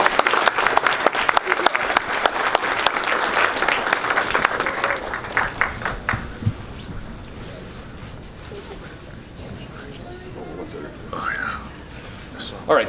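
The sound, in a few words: applause at a city council meeting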